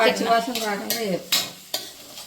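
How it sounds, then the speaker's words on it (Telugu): Ingredients for a tamarind leaf, raw prawn and egg curry fry in a pan, with a soft sizzle beneath a few sharp spatula scrapes and knocks spaced out over a couple of seconds. "ఇవి పచ్చివాసన పోయేంత వరకు ఫ్రై చేసుకోవాలి"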